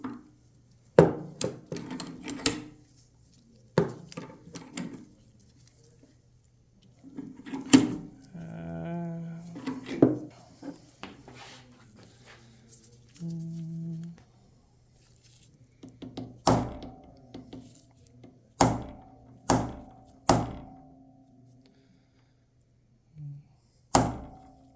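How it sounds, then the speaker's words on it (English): Hammer striking a punch to drift a night sight into the slide of an HK VP9 pistol held in a vise, a series of sharp single taps with pauses, some scraping and shuffling between blows. "I'm going to grab the whole thing in the vise."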